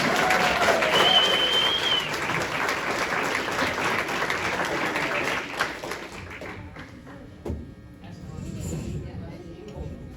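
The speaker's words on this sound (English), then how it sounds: "let's hear it for the U15 local league team" An audience at a youth hockey team awards night applauds a U15 local league team. Loud sustained clapping gradually dies away over several seconds, with voices talking through it.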